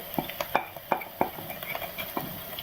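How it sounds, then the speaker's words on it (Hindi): A spoon scrapes and clacks against a pan while beans fry with masala, salt, turmeric and red chili, giving a rhythmic series of close stirring knocks over a soft sizzle. "बीन्स के साथ मैं नमक, हल्दी और जो लाल मिर्च थी वो डाल दूंगी और इसका मसाला भून लूंगी"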